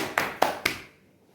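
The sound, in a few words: hands clapping twice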